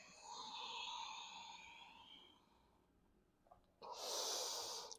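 Deep yoga breaths sound close and airy: a long exhale fades into quiet, then a sharp new inhale begins, with nothing else around.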